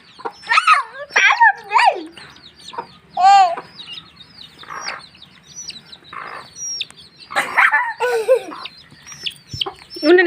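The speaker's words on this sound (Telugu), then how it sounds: "ఉండని కోడి పిల్ల వస్తుంది" Chickens cluck and squawk in short irregular bursts at close range, mixed with other bird calls and a few voices talking in the background of a home yard.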